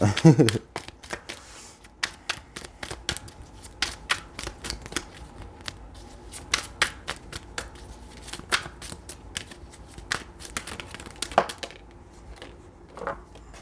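Tarot cards shuffled by hand in a dense run of crisp riffling and flicking bursts, with a person talking over them.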